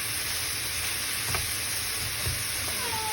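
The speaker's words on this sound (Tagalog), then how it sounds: "Gisa ko na lang po siyang ganito, tapos nilagyan ko siya ng lasa na lang po" Vegetables with minced pork and garlic sizzle steadily in a hot pan, a continuous frying hiss with a few soft stirring scrapes, close and moderately loud with no talking.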